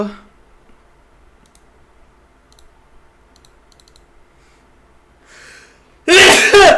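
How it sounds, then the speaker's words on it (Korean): A single loud, sharp sneeze from a person with rhinitis bursts close to the microphone during a live stream. Before it come several quiet seconds of faint clicking, and a brief laugh is heard. "아 재채기 죄송합니다"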